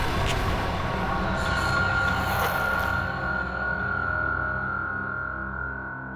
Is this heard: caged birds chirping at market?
no